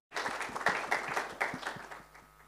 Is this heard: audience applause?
yes